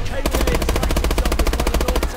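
Automatic gunfire in Call of Duty: Advanced Warfare during the Fission mission: a loud, rapid, evenly spaced burst of machine-gun shots that starts abruptly and keeps going.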